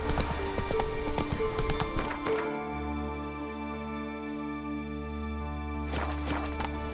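Horse hooves clip-clopping in the video game The Witcher 3, a rapid rhythmic trot for about two seconds that then gives way to a steady low hum and tonal ambience.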